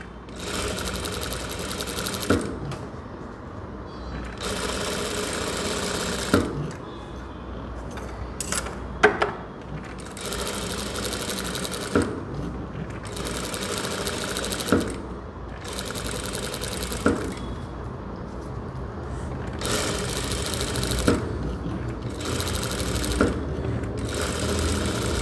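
A sewing machine stitches a dart on a four-dart semi-katori blouse in repeated close, steady bursts of rapid stitching separated by short pauses, with small clicks between runs and no talking.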